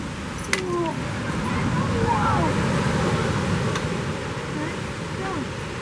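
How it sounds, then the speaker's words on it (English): Waves wash against the shore at a gorge nature preserve, a steady rushing roar mixed with wind, with people talking faintly nearby. "Wow, look at those waves."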